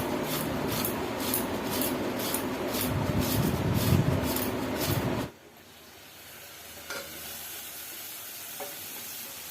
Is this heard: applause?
no